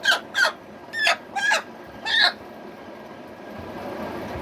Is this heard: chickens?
yes